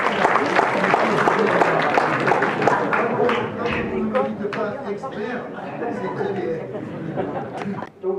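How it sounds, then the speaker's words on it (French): Applause and crowd chatter from the audience at a French public question-and-answer town meeting, steady and dense throughout, with voices mixed into the clapping. "Bravo, on peut applaudir."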